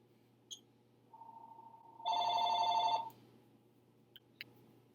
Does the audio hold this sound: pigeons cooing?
no